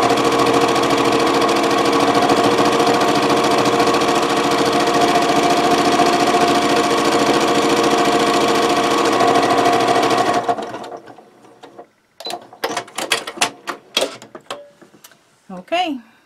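A sewing machine stitching around the edge of a fabric microwave bowl potholder runs loud and steady for about ten seconds, then stops, followed by a few scattered handling clicks and rustles.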